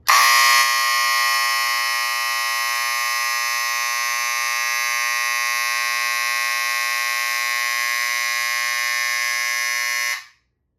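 A Wheelock 7004T fire alarm horn blares a loud, piercing electronic tone continuously for about ten seconds, then cuts off abruptly.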